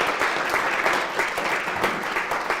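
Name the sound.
audience applause for TBK Bank sponsor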